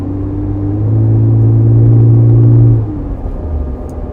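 The V6 engine of a 1991 Acura NSX drones loudly from inside the moving car, swelling into a sustained higher-pitched rev for about two seconds before it drops back to a lower rumble.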